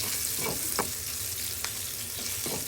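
Onion, green chili and garlic frying in a pan: a dense close sizzle with a few distinct scraping strokes of a spatula stirring, loud and without voices.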